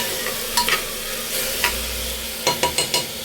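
Green gram and tomato are stirred in a hot pan over a steady sizzle, with a few quick spatula scrapes and taps close up near the end.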